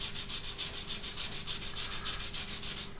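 Steady back-and-forth rubbing of sandpaper held flat across a seam on a plastic 1/72 scale Italeri Jaguar T2 model kit part, about fifteen even close strokes in three seconds with no talking.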